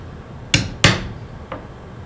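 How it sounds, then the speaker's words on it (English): Two sharp taps of a metal awl punching a dimple into wood, close by, followed by a fainter third tap. "I always like to use the awl to put a little dimple at X marks the spot"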